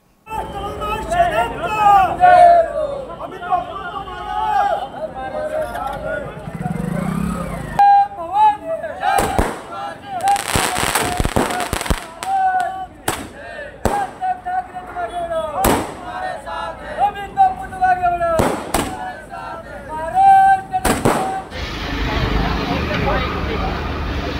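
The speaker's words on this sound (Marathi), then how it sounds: "कार्यकर्त्यांनी आधी फटाक्यांची प्रचंड आतिषबाजी केली" Party workers set off a big volley of firecrackers outside a district office in Shegaon. Crowd chatter and shouting fill the first seconds, then sharp loud bangs burst repeatedly and irregularly over the noisy crowd.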